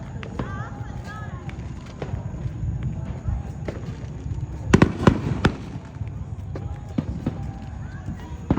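Fireworks at a 2025 firework show pop and crack in scattered bursts, with a dense cluster of loud bangs midway through, some near and others farther off, over a steady rumble of outdoor crowd noise and people talking.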